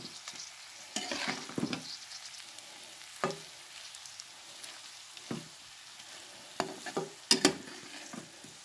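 Fish frying in a pan for mas biryani, a soft continuous sizzle punctuated by irregular spatula scrapes and clanks, close and clear with no talking.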